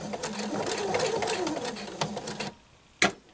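A sewing machine stitches through a thick lump of knit shirt fabric, its steady motor hum running loud and close for about two and a half seconds before stopping, followed by a short sharp click.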